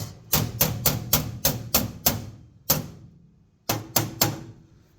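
A hammer taps a metal drawer slide into a stainless steel tool chest in a series of sharp, ringing strikes, seven in a quick steady run, then one alone, then three more after a pause.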